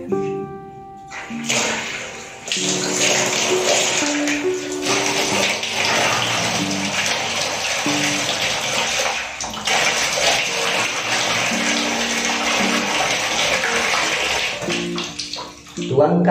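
Tap water runs steadily for wetting the face before a Pond's serum facial wash, a continuous rushing splash with a few faint tonal hums and brief pauses, heard alone without talk.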